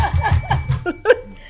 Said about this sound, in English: I never used the bell before.